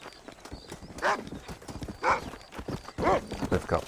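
Hooves clip-clop steadily while a horse neighs and whinnies several times over the top, loud and close, in the video game Red Dead Redemption.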